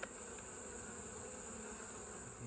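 Honey bees humming steadily in an open hive during an inspection, a dense, even drone close by with no talking.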